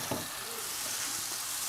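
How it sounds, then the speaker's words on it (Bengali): Soaked red lentils stir-fried with spices in a pan, a steady dense sizzle with occasional stirring scrapes, close and without voices. "মসুর ডাল দিয়ে নেড়েচেড়ে মশলার সাথে কষিয়ে নিচ্ছি।"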